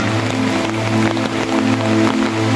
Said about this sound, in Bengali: এই জন্য দেখেন চাঁদপুরে কি প্রচুর পরিমাণের বৃষ্টি হচ্ছে